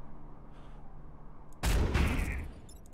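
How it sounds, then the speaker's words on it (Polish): Artillery fires in Into the Breach, one sudden heavy boom bursting over quiet low background noise and fading within about a second. "artyleria strzela potem tu"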